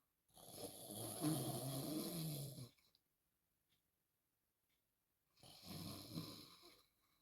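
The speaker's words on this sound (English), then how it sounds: "his head begins to nod, and he began to snore" Two loud, rasping snores, each a few seconds long, separated by a quiet pause of silent breathing.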